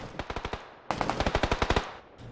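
Bursts of automatic gunfire in a competitive video game scrim: a quick run of five shots, a short pause, then a louder, longer rattling burst of about a dozen rounds, close and sharp with no voices.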